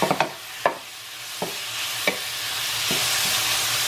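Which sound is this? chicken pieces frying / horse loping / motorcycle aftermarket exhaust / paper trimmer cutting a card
chicken pieces frying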